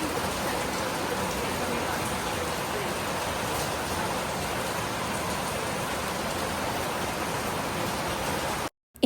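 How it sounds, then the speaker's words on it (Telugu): Heavy monsoon rain pours steadily at dawn during a trek near Pune, Maharashtra, a dense, continuous hiss that stays loud and even throughout before cutting off abruptly at the very end. "ఇంకా వర్షం పడుతూనే ఉంటుంది."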